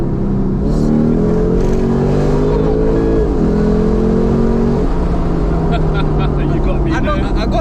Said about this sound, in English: And it's so hard to rev it out sometimes